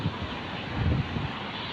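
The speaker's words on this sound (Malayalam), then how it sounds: "എന്തോ ഒരു കാറ്റ്" Wind buffets the microphone at Kalba beach in Sharjah, a steady loud broadband roar with low gusty rumbles and no voices.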